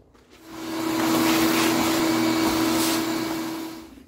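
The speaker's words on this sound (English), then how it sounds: "Let's use the vacuum." A vacuum cleaner runs up loud and steady while cleaning out the greasy engine bay of a 1972 Chinook RV during a junkyard engine teardown, its motor whine rising in, holding constant, then tapering off near the end with no talk.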